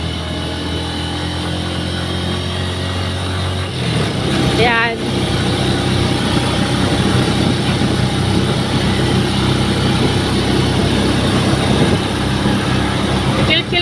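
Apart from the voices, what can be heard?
motorcycle engine straining while climbing uphill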